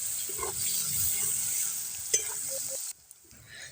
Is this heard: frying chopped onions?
yes